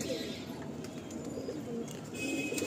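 Low, throaty cooing from a lively Kalsira pigeon in a home loft rolls on in uneven bursts nearby, with faint scattered chirps and light rustling behind it.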